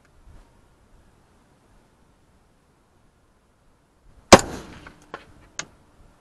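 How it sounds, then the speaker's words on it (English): An MK18 rifle fires at a target 200 yards away, with one sharp, loud gunshot followed by a short decay, then two fainter distant impacts or clanks after near silence. "it's 200 yards. Let's shoot some."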